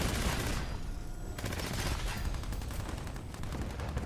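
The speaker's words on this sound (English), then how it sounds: "I was shooting that guy right in the back" Gunfire in the video game Fallout 76 comes as dense rapid bursts of shots, loud and continuous over about four seconds with only brief breaks and no voices.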